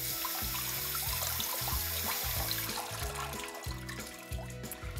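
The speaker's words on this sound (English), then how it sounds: "For berries or grapes, rinse under running water in a colander." Berries rinsed in a colander under running tap water, a continuous splashing and trickling stream close by with no talk.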